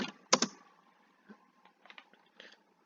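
Keys tapped on a computer keyboard while an SQL query is entered, a loud burst of a few strokes at the start followed by sparse, quieter scattered taps with gaps between them.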